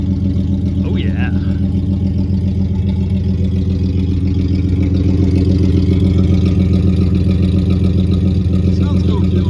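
A 1974 Plymouth Duster engine idles loudly and steadily up close, a constant low rumble with a faint clattering texture and no change in pace.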